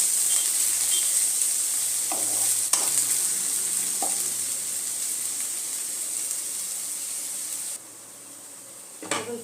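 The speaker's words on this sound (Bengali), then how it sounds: "আবার আমি আদা রসুনের সাথে পেঁয়াজটাকে একটু 2 মিনিটের জন্য ফ্রাই করে নেব" Onion frying with ginger-garlic paste in a pan, making a steady close sizzle with a few stirring scrapes and clinks, for a chicken lababdar.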